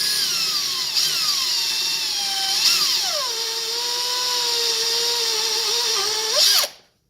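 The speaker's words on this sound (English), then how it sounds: "drill through the bracket." A cordless drill with a 3/8 bit bores through a plastic marine transducer bracket, a loud steady whine whose pitch sags as the bit bites, then stops abruptly at the end.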